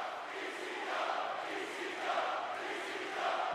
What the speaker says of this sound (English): And you hear this crowd.